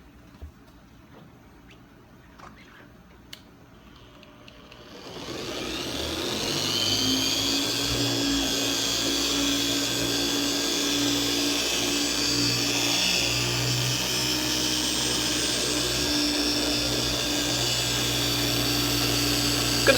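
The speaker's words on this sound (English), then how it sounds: "You can use any dual action polisher. Here's a long throw, and attached to it we have the Eurofiber 50/50." Long-throw dual action polisher fitted with a Eurofiber 50/50 pad, running on car paint with polish and protectant: quiet handling noises, then the motor whirs up at about five seconds into a steady, loud drone.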